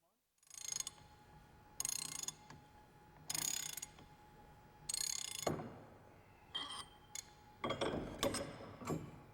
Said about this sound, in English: Using the special tool, remove the outer lock nut.